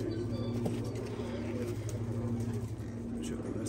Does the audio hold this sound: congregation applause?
no